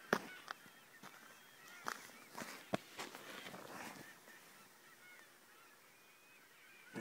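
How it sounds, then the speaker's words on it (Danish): Scattered loud gull calls ring out in quick bursts over a steady outdoor hiss, then fade to quieter background with one more call at the end. "de der måger, der larmer helt vildt"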